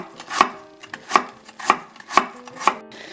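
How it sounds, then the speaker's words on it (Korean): A knife chops radish into thin square slices for water kimchi: five crisp, evenly spaced thuds on a cutting board, close and clear, with nothing else heard. "무는 시원한 맛을 내라고 한 5cm 정도 작게 나박김치처럼 이렇게 썰어주세요"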